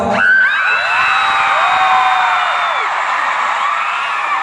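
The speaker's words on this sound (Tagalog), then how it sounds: "Pwede ba natin i-try na sumigaw?" A concert crowd shouting and screaming together in one loud, sustained roar that swells and then holds steady for several seconds.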